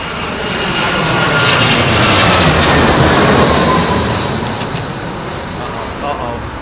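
A jet aircraft taxies at Heathrow Airport in gusting storm conditions, its engines making a loud, continuous roar with broad rushing noise that swells and slowly fades, heard from fairly close outdoors.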